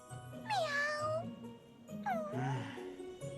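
A cat meows twice, nearly alone, each call a clear rising-then-falling wail with a short gap between, fairly close and loud.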